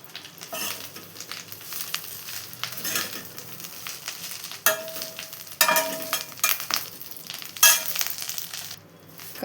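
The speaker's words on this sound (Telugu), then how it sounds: "దీంట్లోకి కొంచెం కొంచెంగా ఈ కరివేపాకునంతా వేసేసుకొని దీన్ని వేయించుకోవాలి." Curry leaves being fried in a pan, a close crackling sizzle that flares in several sharp bursts as handfuls drop into the oil, with light stirring scrapes between and no talk.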